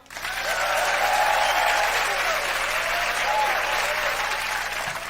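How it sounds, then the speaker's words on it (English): Audience applause during a sound check before a jazz-rock tribute party show, as a full room claps steadily and loudly with some cheering voices mixed in, rising quickly and holding for several seconds. "I need a sound check of audience applause."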